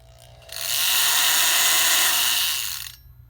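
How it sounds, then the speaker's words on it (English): A Milwaukee flexible scraper blade on an oscillating multi-tool shakes hard, giving a loud, harsh rattling buzz that starts abruptly, holds for about two and a half seconds, then cuts off, with no talk. "when you turn it on, it causes it to shake way too much, and it creates a terrible noise."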